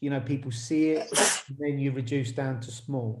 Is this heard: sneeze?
yes